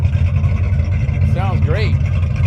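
A classic Cobra Mustang engine idles with a loud, lumpy low rumble close by, while someone briefly talks over it.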